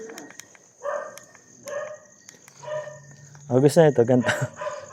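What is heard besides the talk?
dog barking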